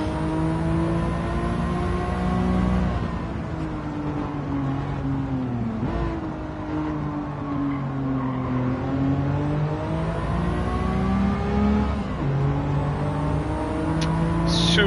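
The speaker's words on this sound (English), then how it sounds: "Car has some good acceleration." A Toyota Supra in Gran Turismo 7 races on a circuit, its engine droning loudly and steadily as it climbs and falls through the revs with gear changes, without any talk.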